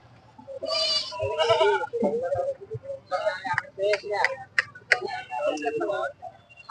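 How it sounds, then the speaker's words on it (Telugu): Goat kids bleat repeatedly, close by, at a busy tribal weekly market, with people talking over and between the calls. "మేకపిల్లలు చూడండి ఎంత బాగున్నాయో"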